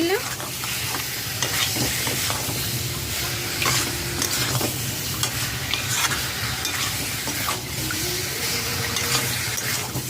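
Onion paste and spices fry over low to medium flame for chicken curry, a continuous close sizzle broken by repeated scraping and clinking strokes of a spoon stirring through the pan.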